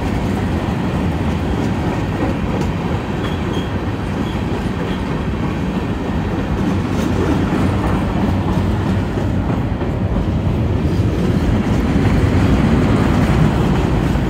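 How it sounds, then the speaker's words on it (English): A Union Pacific freight train led by UP 8324 rolls along the tracks close by, departing after a stop, with a continuous loud rumble and clattering of wheels throughout. "Well, it's good that the train is moving again."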